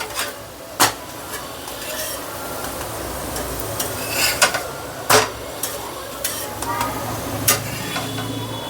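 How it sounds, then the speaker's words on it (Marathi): A sesame-jaggery flatbread (tilgul poli), folded so its edges roast, cooks on a pan with a soft continuous sizzle and occasional sharp taps and scrapes of a utensil against the pan. "असं घडी करून घातलं की काठ चांगले भाजले जातात"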